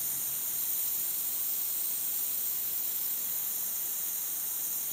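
Compressed air from a small airbrush compressor hisses steadily and quietly throughout, an even, unbroken rush of air with no talking.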